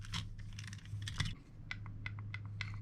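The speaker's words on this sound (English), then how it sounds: "You can still hear the clicking because it's metal on metal." Light metallic clicks and ticks of metal gears inside an airsoft DSG M4 gearbox come in irregular bursts, close and quiet, like small parts snapping against each other.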